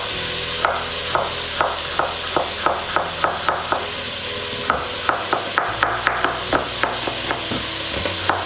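Onions, carrots and celery in roughly equal amounts frying in a pan for a bolognese, with a steady sizzle under repeated sharp scraping and stirring clicks at an even rhythm, close and clear.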